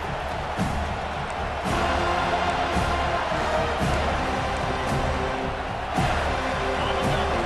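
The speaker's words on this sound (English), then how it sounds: "This crowd, full throat, splitting the eardrums" A packed football stadium crowd at a Penn State versus Florida State college game roars steadily and loudly for the whole stretch, a dense wall of cheering with no break.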